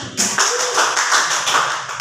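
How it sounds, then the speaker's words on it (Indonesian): Classroom applause for a student who answered correctly, a steady patter of many small hands clapping together at close range, loud and continuous with no talking. "Jadi tepuk tangan untuk Nak"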